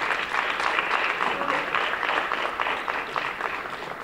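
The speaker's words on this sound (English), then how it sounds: "So please give them a round of applause too." An audience claps in sustained, dense applause at a university pageant crowning ceremony, many hands together at a steady level throughout.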